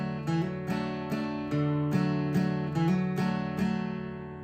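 Acoustic guitar strums the brief intro of a song, about ten evenly spaced chord strokes in a steady rhythm, close and full, with no voices.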